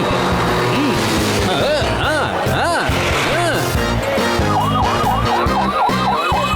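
A wailing siren on the chief minister's car in a cartoon rises and falls in repeated sweeps, loud and close, layered over engine noise and a busy animated soundtrack.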